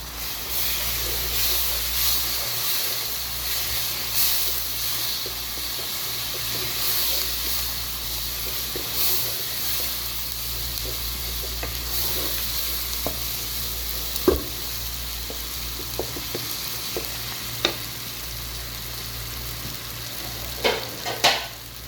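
Red chilies and tomato puree fry in a pan for palak gosht, giving a steady close sizzle and hiss with sporadic spoon clicks and scrapes growing toward the end, no speech.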